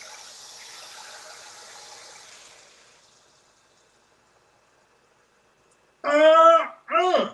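Marsala wine pours into a pan with a soft, steady liquid gush lasting a few seconds, then fades into silence before a short burst of voice follows.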